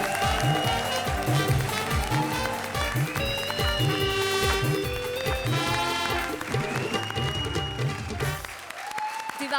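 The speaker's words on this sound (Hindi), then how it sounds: "जोरदार तालियां मनीष और राजीव के लिए, प्लीज।" Audience applause for performers on a Hindi television comedy show, a loud, dense wash of clapping that runs steadily for about nine seconds before thinning out at the end.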